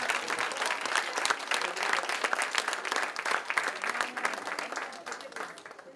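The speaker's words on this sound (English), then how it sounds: "So give him a round of applause." An audience at an honoring ceremony breaks into sustained applause, dense rapid clapping from many hands that stays lively throughout and thins slightly toward the end.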